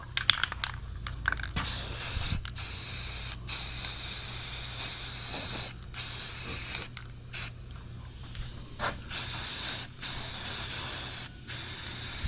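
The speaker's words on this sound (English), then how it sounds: "We'll give them a coat of primer here" An aerosol can sprays primer onto lawn tractor rims from a John Deere X350 refurb, with a close, loud hiss broken into repeated bursts of about a second each and short silent gaps between passes.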